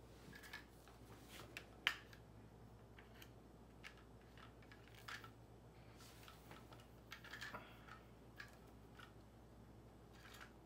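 Plastic baby bouncer pieces are snapped together by hand, giving several sharp, quiet clicks and small knocks scattered over a soft, faint room background, with no voices.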